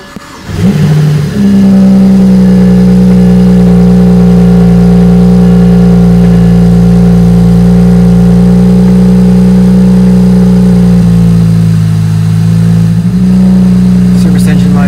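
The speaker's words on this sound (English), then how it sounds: "Service engine light is still on," A BMW 335i N54 engine cranks and catches after coil and spark plug replacement, then settles into a loud, steady idle with a low droning hum that holds for over ten seconds.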